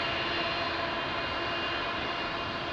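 Boeing 777 airliner of Angola Airlines taxiing across the runway at Lisbon Airport in rain and wind, a steady, moderately loud jet engine rumble and whine that holds evenly throughout with no voices.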